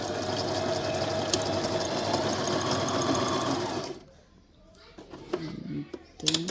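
Brother JV1400 sewing machine stitching in reverse, a fast, steady, close mechanical whir for about four seconds before it stops, leaving quiet handling noises.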